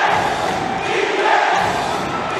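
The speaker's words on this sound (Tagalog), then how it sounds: "It is a roaring crowd here at the Vitaliano Agad Coliseum." A roaring crowd fills the Vitaliano Agad Coliseum during a basketball game between Zamboanga and Batangas, a loud, steady wash of cheering and shouting with no breaks.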